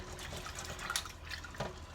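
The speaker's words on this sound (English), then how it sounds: "So we're going to wash these peas." Black-eyed peas being washed in water in a pot lid, quiet sloshing and trickling with a couple of brighter splashes as the water is stirred by hand.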